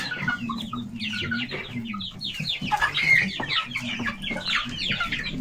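Rhode Island Red and Australorp chickens cluck and squawk continuously in a busy, close chorus, with several birds, including a rooster, calling over one another.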